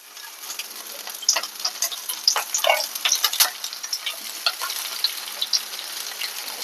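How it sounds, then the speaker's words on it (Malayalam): Ginger, garlic and curry leaves frying in hot oil, a quiet bed of crackling with scattered sharp pops and sputters throughout, close and continuous, with no talk. "നമുക്ക് ആദ്യം ഇഞ്ചിയും വെളുത്തുള്ളിയും കൂടെ കറിവേപ്പിലയും കൂടെ ഇട്ട് കൊടുക്കാം."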